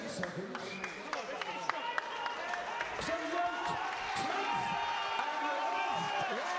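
Applause and crowd noise in a boxing arena before the tenth round, a steady wash of clapping with occasional whoops, heard under continuous commentator talk.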